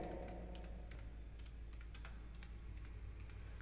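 Steady typing on a computer keyboard while entering accounting narration in Tally software: quick, irregular key clicks at moderate level over a constant low hum, with no voices.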